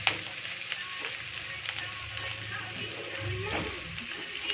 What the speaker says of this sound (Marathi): कांद्याला मस्तपैकी ब्राऊन कलर येऊपर्यंत परतवा।